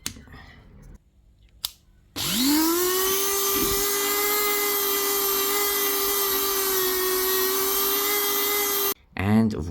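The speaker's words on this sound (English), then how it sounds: "now we can round this off with a Dremel." A Dremel rotary tool rounds off a part of a 1/18 Greenlight Chevrolet police car model. It spins up sharply into a loud, steady, close high whine that holds for about seven seconds before cutting off.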